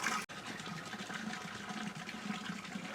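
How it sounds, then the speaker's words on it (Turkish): Natural spring water runs steadily in a continuous broadband wash while feet are rinsed outdoors near a village. A brief sharp cut comes early, and then the water keeps flowing close and even. "Burada bir doğal su var. Şimdi ayağımı falan yıkayacağım."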